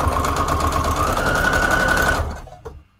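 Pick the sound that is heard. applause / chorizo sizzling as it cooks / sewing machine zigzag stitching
sewing machine zigzag stitching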